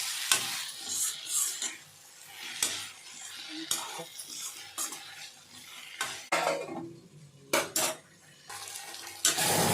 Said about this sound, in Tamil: ஒரு ரெண்டு நிமிஷத்துக்கு ஒரு தடவை எடுத்து கிளறி விடணும்